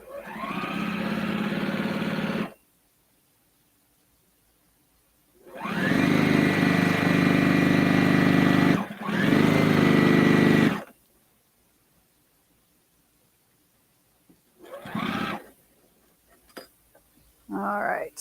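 A sewing machine stitches a quilt block in several close bursts of rapid motor whir and needle chatter, separated by quiet pauses.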